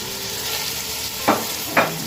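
Cherry tomatoes sauté in a hot pan with a steady, close hiss of frying, broken twice by short scraping knocks of a utensil stirring.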